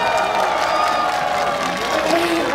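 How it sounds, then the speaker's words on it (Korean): At a live Korean event featuring a young singer, an audience cheers and claps continuously, with shouts and whoops riding over a loud, dense crowd roar that stays steady throughout. "먼저 부산 우리 김유화 양에게 다시 한 뜨거운 박수 부탁드립니다"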